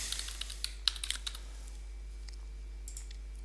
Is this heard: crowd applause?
no